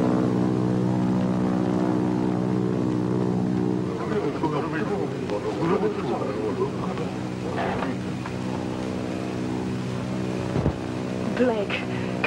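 A propeller plane drones overhead in a 1947 jungle adventure film, a steady humming engine that persists throughout while people talk over it.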